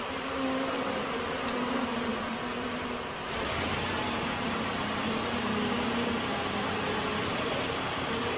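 A swarm of disoriented bees buzzes in a dense, continuous drone with firefighters and specialists nearby, the hum steady and loud throughout with a faint voice underneath.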